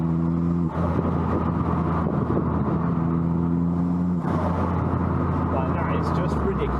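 Astra VXR turbo engine fitted with a Turbosmart recirculation valve and upgraded fuel pump, a steady loud drone heard from inside the car, with a couple of shifts in tone as it pulls, under occasional talk.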